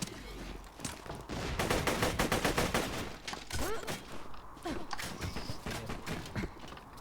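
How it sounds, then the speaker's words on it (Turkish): Borderlands 2 gunfire rattles in rapid, steady bursts of shots with a low thumping underlayer, moderately loud, with occasional faint voices. "Arkamdan birisi vuruyor."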